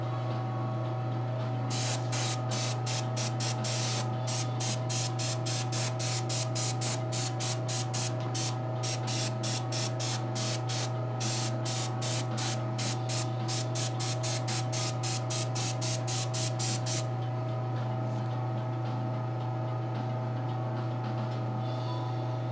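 Paint sprays onto a custom action figure in rapid, evenly spaced hissing bursts over about fifteen seconds, set against a steady low indoor hum and then trailing off into the hum alone.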